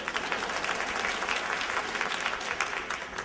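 A live audience at a motivational speech applauds steadily, dense clapping filling the room evenly for a few seconds with no voice over it.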